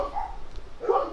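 A dog barks a few times close by, short yipping bursts with a brief gap between them and no talking.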